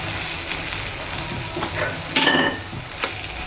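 Masala rice sizzles in a hot pan as it is stirred, a constant close frying hiss broken by a few scraping strokes of the spoon against the pan.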